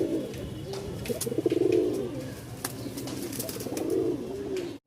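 A male and female pair of Giribaz flying pigeons from Rajshahi coo in repeated throaty rolling phrases, close and clear, with faint chirps and clicks around them and no talk.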